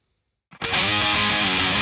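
A distorted electric guitar rips into the tail lick ending riff 1 of a song at full speed, entering after a brief silence and sustaining loud and dense.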